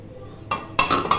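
Metal lid set back onto a pot of bhuna khichuri, two or three close clanks and clinks in quick succession.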